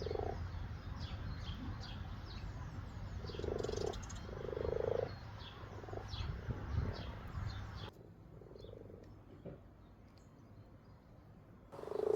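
Frogs croaking in repeated bursts, mixed with bird chirps in a Welsh garden, fairly soft and fading in the later part.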